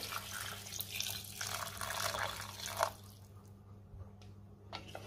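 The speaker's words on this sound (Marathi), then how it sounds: "आता मी त्यामध्ये पाणी घालते।" Hot water pours and splashes into a pan of chicken curry for a few seconds, then tapers into faint trickles and drips; quiet overall, with a low steady hum underneath.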